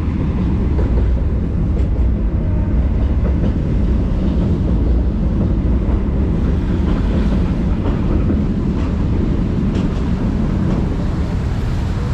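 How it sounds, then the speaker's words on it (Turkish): A tram rumbles past near the Eminönü bridge in Istanbul, a steady low rolling rumble with faint squeals and wind buffeting, holding level for the whole stretch. "Bir yan tramvay ötedi"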